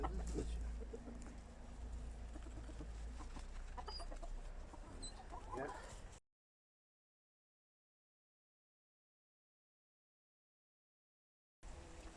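A rooster giving low, annoyed grumbling clucks amid farmyard noise, close by, then the sound cuts out into silence before briefly returning.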